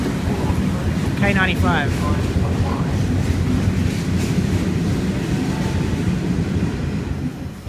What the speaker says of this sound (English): Got a K-set departing platform 4